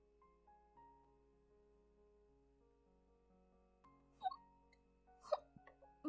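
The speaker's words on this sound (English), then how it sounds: "at least I know these aren't real hiccups, these are fake hiccups" A person faking hiccups, a few short, sharp vocal hics spaced apart over a quiet background, fairly soft and close.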